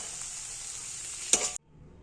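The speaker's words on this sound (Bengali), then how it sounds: "বথুয়া শাক ভাজা হয়ে গেছে, নামিয়ে নেব।" Bathua greens fry in a pan with a steady, close sizzling hiss, broken by one brief scrape of stirring before the sound stops abruptly.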